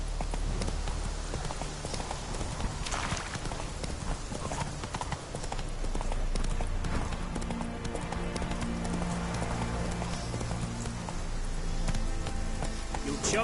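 Roach, the horse in The Witcher 3, gallops in a steady, close clip-clop of hooves over a loud game backdrop of wind or rain and low music, with occasional snorts and no talk.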